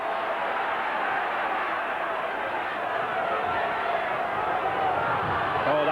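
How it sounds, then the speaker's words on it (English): A rugby league crowd cheering on Warrington in a Warrington v Widnes semi-final, a steady loud roar of many voices sustained throughout with a commentator faintly under it. "crowd really getting behind this Warrington side now"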